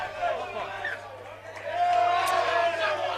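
Home crowd at an A Grade rugby league match on the Gold Coast, Currumbin versus Tugun, murmuring and rising into a louder, sustained displeased roar of voices over a steady low hum.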